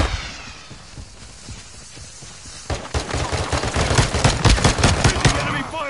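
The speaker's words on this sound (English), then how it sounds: "Taking enemy fire!" Enemy gunfire erupts in a PS4 shooter, beginning as scattered shots and swelling into a loud, rapid automatic burst of closely spaced cracks, with players talking around it.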